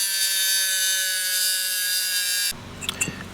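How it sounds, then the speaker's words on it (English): A tuna can lid is cut to make a DIY wood gas backpacking stove, with a sustained high metallic whine that stops abruptly and leaves a few light clicks and taps. "I'm going to cut in this just to this line on this tuna can lid"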